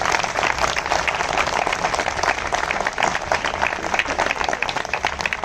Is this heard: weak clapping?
yes